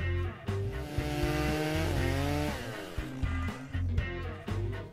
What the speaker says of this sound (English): the torque of that right angle grinder with that wire wheel on it will be sure to throw them across the shop